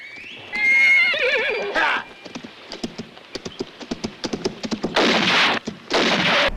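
In a western film, a horse gives a loud, quavering whinny, then rapid hoofbeats clatter in a close run, followed by two bursts of heavy gunfire or crashing noise.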